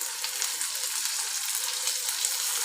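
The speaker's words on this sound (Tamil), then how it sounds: "திராட்சையும் அதுக்குள்ளார உங்களுக்கு நல்லா வறுப்பட்டுடும் நெய்யில்." Cashews and raisins crackle and sizzle steadily in hot ghee for a sabudana payasam, a close, continuous bright frying hiss with no one speaking.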